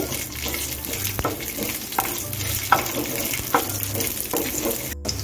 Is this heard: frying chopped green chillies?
yes